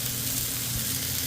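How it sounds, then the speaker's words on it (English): Ground meat browning in a pan for a spicy Mexican lasagna gives off a steady, close sizzle with a constant hissing texture throughout the short moment. "we still have our meat browning here"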